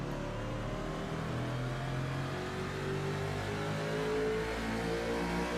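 Race cars pulling away at the start of a race in Michigan, a continuous loud engine drone with rising pitch as they accelerate, close by and without voices.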